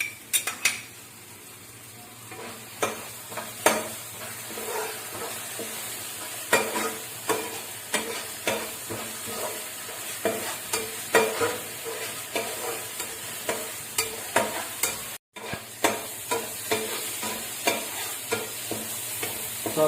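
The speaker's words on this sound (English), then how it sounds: "Saute it for 3 to 4 minutes." Chicken with tomato ketchup sautéing in a pan: a constant sizzle underlies repeated clinks and scrapes of a spoon stirring, steady and close with regular stirring strokes throughout, no voices.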